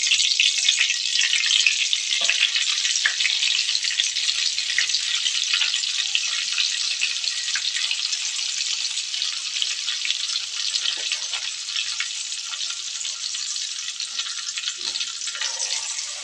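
Butter melting and sizzling in a hot pan for fish butter fry, a dense steady hiss that runs loud and continuous throughout with no talking.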